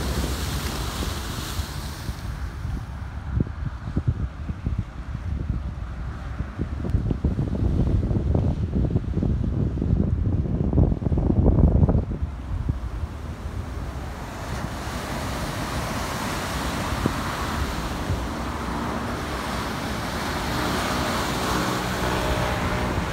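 Caribbean Sea waves washing against the Santo Domingo seafront, a continuous roar of surf mixed with strong wind buffeting the microphone, swelling louder midway then settling into a steady rush.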